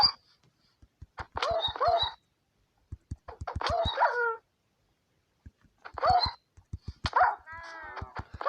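A Minecraft dog barks in short, sharp bursts with brief whimpering yips, separated by quiet gaps and faint clicking taps.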